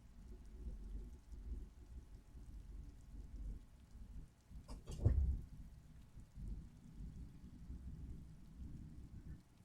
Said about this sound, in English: Even the rain feels nice.